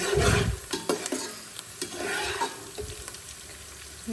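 Onions frying in a pan until reddish-brown, with steady close sizzling and intermittent stirring scrapes and clinks throughout; no talk.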